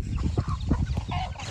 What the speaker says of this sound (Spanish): Mira los pollitos.